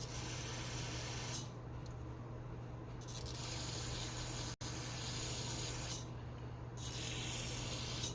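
Carb cleaner sprayed from an aerosol can onto a Honda Trail 90 carburetor, two long steady hissing bursts close by, each lasting a few seconds, with no talk.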